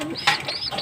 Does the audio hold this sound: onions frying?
no